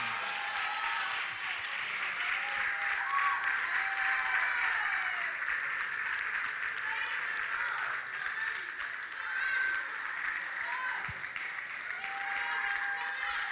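A crowd at a regional championship in the Cayman Islands gives a gold medalist from the U.S. Virgin Islands a full, dense round of applause that holds steady and close for the whole stretch.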